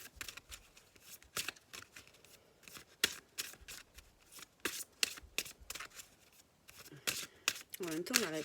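Tarot cards are shuffled in quick, close, papery riffles and flicks, with someone speaking French quietly over them.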